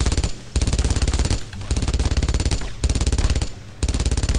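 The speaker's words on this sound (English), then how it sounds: "that machine gun was fucking hitting me through all that cover that I took earlier" Sustained machine gun fire from the World War II shooter Brothers in Arms: Road to Hill 30, loud rapid bursts broken by short gaps, dense and close throughout.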